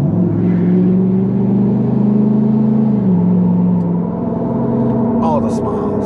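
A lifted 2018 Ford F250 pickup accelerates to pass on a rough road, its engine droning loudly and rising in pitch from inside the cab, with a steady road rumble underneath.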